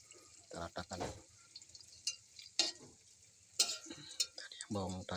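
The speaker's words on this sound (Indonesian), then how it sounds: "Ini udah saya goreng guys." Onions or food frying and being stirred in a pan over a high flame, with crackling sizzle and intermittent scraping stirs close up, and brief bits of talk in between.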